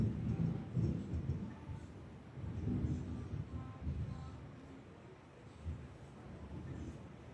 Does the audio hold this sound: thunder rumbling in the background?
yes